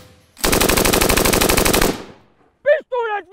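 A rapid, rhythmic burst of rifle gunfire during military training fires close and loud for about a second and a half, then cuts off, followed by a short silence and a voice.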